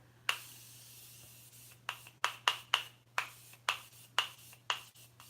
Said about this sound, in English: this is their continuous setting mist